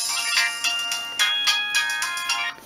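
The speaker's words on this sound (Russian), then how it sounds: "стоял этот рингтон" A Nokia 1280 mobile phone plays its ringtone, a bright, loud repeating electronic melody in short rhythmic phrases, heard alone and close up.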